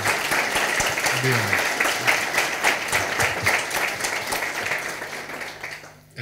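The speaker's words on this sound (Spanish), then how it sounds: "podríamos aplaudir a las dos personas" An audience at a science talk claps steadily for several seconds, a dense patter of applause that fades out at the end, with a brief word spoken.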